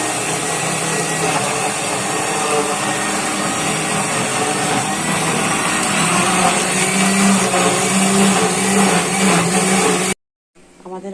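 A kitchen blender purees mango with sugar for mango yogurt, giving a loud, steady whirring roar for about ten seconds before it stops abruptly.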